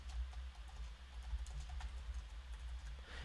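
Light, quick keystrokes tap on a computer keyboard, faint and irregular over a low steady hum.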